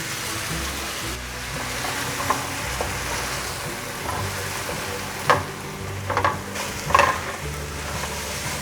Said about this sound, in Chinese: 现在放入面，用筷子一起拌炒